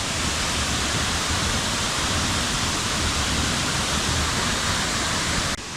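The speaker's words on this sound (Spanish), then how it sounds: "hemos llegado a la primera cascada" A waterfall on Lombok island, where a tall cascade carries plenty of water even in the dry season. It gives a dense, steady roar of falling water, loud and close, constant for several seconds with no voices.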